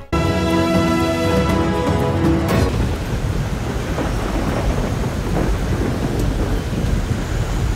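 A thunderstorm in Karachi strong enough to uproot trees, with a loud, rolling rumble of thunder over steady heavy rain that continues throughout, close and dense with no talk.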